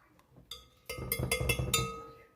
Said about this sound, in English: So 1 cup of sugar going into the bowl